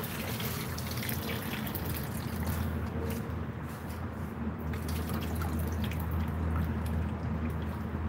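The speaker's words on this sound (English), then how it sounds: "We're gonna just empty out water." Water is emptied outdoors from a container of soaking catfish, a continuous splashing trickle and drip that runs steadily without pause or talk.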